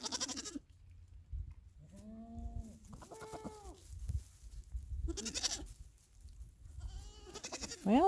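Goats, including young ones, bleat at hay feeding time on a farm on a snowy winter morning: several separate wavering calls come one after another over a quiet background.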